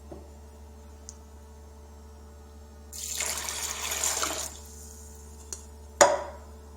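Water is poured from a vessel into a pot of mung lentils, a short splashing burst over a quiet kitchen hum, followed by a clink of the pot.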